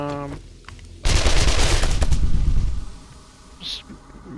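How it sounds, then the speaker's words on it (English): SMG gunfire in the zombie survival game 7 Days To Die rattles out as a loud, rapid close-range burst lasting a couple of seconds, then cuts off, followed by a quieter game sound. "Just mow you down with the SMG"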